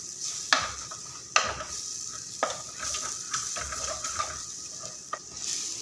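Onions sautéing in a pan for red pomfret fish curry, a gentle continuous sizzle broken by several scraping stirs and light utensil clinks against the pan, close and moderately quiet.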